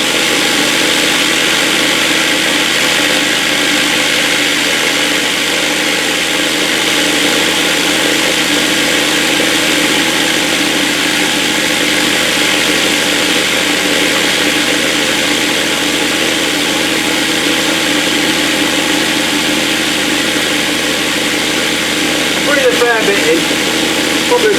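A Viby 12-inch SP-A12 vibratory tumbler runs with aluminium oxide media, a steady broadband buzzing hum that holds level throughout with no pauses, plus a brief clatter near the end.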